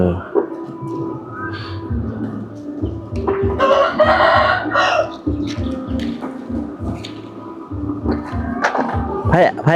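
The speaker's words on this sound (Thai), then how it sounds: "มีเป็ดมีไก่เลี้ยง" Chickens cluck repeatedly nearby while a rooster crows loudly, with scattered thumps and a few voices in the background.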